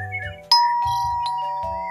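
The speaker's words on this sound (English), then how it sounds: "Can we ring the doorbell?" Two-tone doorbell chimes ringing in a video game, with a deep tonal drone underneath; a second ding-dong follows shortly after the first, clear and close with no talking.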